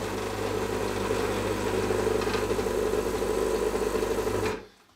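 A post-2015 steel Gaggia Classic espresso machine runs with a loud, steady, throaty buzzing hum that holds evenly for about four and a half seconds, then cuts off abruptly.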